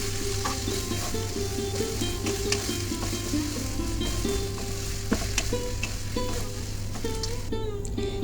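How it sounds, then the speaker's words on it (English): Tomato and fish roe fry in a hot pan with a loud, steady sizzle, broken by the repeated scrape of a spatula stirring through the mix, with no voices. "This is 1 medium to large size tomato, also goes in, and will mix fry"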